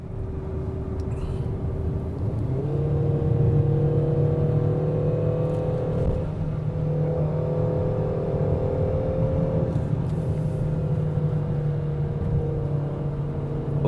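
Peugeot 3008 engine in manual sport mode climbing toward the Genting exit, a steady droning rumble that rises in pitch as it accelerates, with a gear change and renewed climb midway, heard from inside the cabin.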